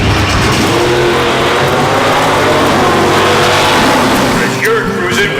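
Classic car and hot rod engines roar and rev loudly together in a dense, continuous blare, with a brief dip near the end.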